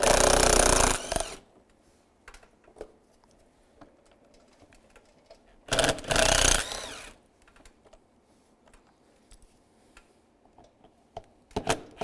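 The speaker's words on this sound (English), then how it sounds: "Use a T15 socket and take these screws off." A T15 socket backs screws out of the front bumper of a 2015-2020 Cadillac Escalade. Two loud bursts of ratchet or power-tool whirring stand out, with scattered light clicks and handling taps between them and a short burst at the end.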